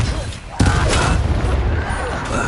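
Confringo blasting spell fired in the Hogwarts Legacy video game, a sudden explosive burst followed by rumbling crackle and debris noise, loud and close, amid spoken combat chatter.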